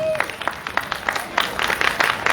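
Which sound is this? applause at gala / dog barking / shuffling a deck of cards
applause at gala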